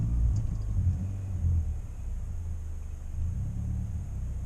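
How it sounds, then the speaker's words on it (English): A project vehicle's engine idles steadily with a low, continuous rumble, and the faint rapid ticking of an exhaust leak at a manifold gasket that has not been replaced may sit within the drone. "That little ta-ta-ta-ta-ta that you hear is an exhaust leak because the manifold gasket has not been replaced."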